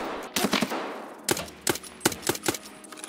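Video-game pistol fire with armor-piercing ammo in bursts: several quick sharp shots early, a pause, then a string of evenly spaced cracks, all fairly close and punchy, with no talk over them.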